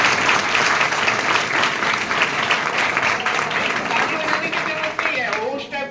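Thick, continuous clapping from an audience at a motivational lecture, loud and even throughout before easing slightly at the end.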